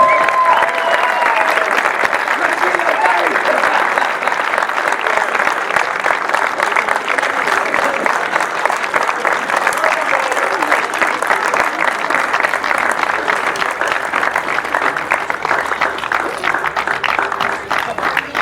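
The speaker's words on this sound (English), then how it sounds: "can we have a massive round of applause for our runners-up," A crowd applauds steadily and loudly for the runners-up, AC Finchley, at a junior cup football final, with dense, sustained clapping and some faint voices mixed in throughout.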